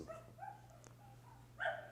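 A few faint, muffled dog barks and yips come from a short distance away, as if through a wall, over a low steady hum.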